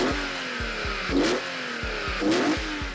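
A BMW M3 CSL E46 with its S54 3.2-liter inline-six revs hard through quick upshifts, a rising howl cut by regular gear changes and two louder bursts, close and loud.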